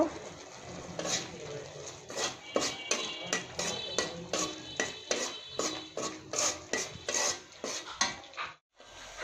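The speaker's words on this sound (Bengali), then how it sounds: "মশলাগুলো ভালো করে কষিয়ে নেব" Spices fried and stirred in a pan for a vegetable and dried fish dish, a steady run of sharp scraping and clinking strokes from a utensil against the pan over a soft sizzle, close and fairly regular.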